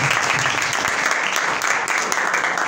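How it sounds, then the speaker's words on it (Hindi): A church congregation at a Christmas party in Attock City, Pakistan, claps for children: loud, dense, sustained applause from a full hall, continuing without pause. "सो जोरदार तालियां इन बच्चों के लिए बजाएं।"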